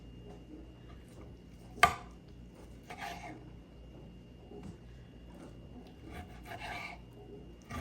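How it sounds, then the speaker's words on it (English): A knife trims fat from beef pieces, giving soft scraping and rasping strokes on a cutting board, with a sharp knock near the start and quieter cuts afterward. "Just cutting off this fat."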